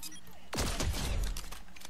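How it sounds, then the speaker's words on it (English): A burst of gunfire in Fortnite during a pistol-only match, a loud close volley of rapid shots with a booming low thud, lasting about a second and a half amid game noise. "Somebody's shooting at me."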